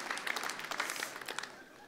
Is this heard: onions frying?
no